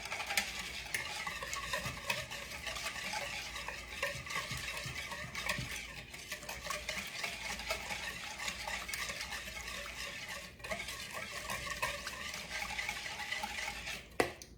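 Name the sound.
stirring chicken in a cilantro lime marinade with kosher salt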